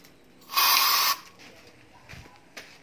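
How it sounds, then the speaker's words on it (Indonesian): A single loud, sharp spritz from a handheld spray bottle misting a plant, lasting about half a second, followed by quiet rustling and a few soft taps. "sekarang kita coba semprot yang ini dulu ya"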